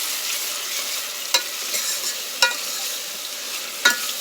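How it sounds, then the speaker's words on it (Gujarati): Tomatoes stirred into frying onions in a pan over a desi babul-wood fire, a steady sizzle broken by three sharp metallic spoon clinks against the pan. "ટમેટા નાખીને હલાવો"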